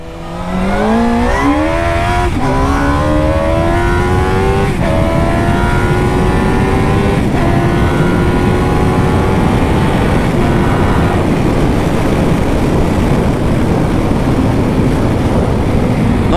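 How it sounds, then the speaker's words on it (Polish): A Suzuki motorcycle accelerates hard in first gear, the engine note climbing steadily through several rising pulls under constant loud wind rush, heard from the rider's position. "przyspieszmy sobie może na jedynce. Pokażę wam jak to idzie."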